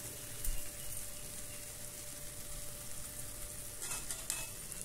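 Turmeric and chili powder fry with softened tomatoes in a pan, a quiet continuous sizzle with small crackles and a brief scrape of stirring late on, no voices over it.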